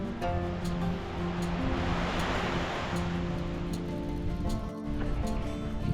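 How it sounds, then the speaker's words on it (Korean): Waves breaking on Silmi beach in Incheon on a quiet morning, a soft, steady wash of surf heard from nearby, with a low humming tone running underneath. "바람에 실린 파도 소리가 점점 가까워집니다."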